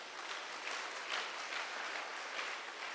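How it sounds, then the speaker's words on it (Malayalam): An audience claps steadily throughout, a dense, even wash of applause at a church prayer gathering with no voices above it. "ഒന്ന് കൈയ്യർത്തി കൈയടിച്ചേ."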